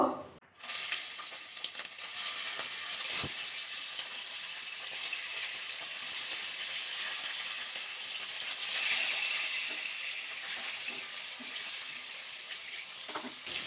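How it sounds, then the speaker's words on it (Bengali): Fish sizzles in hot salted oil in a pan, a steady crackling fry with one sharp clatter partway through and no talking. "ভালো করে তেলের মধ্যে লবণটা মাখিয়ে দিলাম এবার মাছ দিয়ে দেবো"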